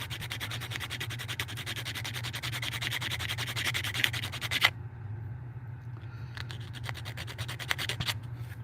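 Hand sanding with heavy-grit sandpaper, rapid rhythmic back-and-forth scratchy strokes close up, a brief pause midway, then strokes resume.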